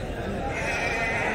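Sheep bleat at a livestock market: a short, wavering bleat rises out of background chatter and crowd noise.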